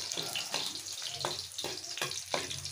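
Garlic sautéing in hot cooking oil for Filipino adobong hito sa gata, a steady close sizzle and crackle with several sharp stirring scrapes of a utensil against the pan.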